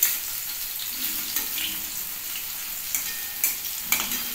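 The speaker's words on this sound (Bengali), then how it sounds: "এবার প্রত্যেকটা আমি একটু লাল লাল করে ভেজে নিচ্ছি।" Slices of pointed gourd (potol) fry in hot oil with a steady, close sizzle, and a few sharper spatters and pan clicks break through toward the end.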